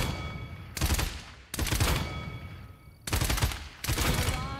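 Bursts of rapid automatic gunfire from the Barrage ultimate ability in the Paladins video game, four loud dense volleys separated by brief gaps with a faint droning background.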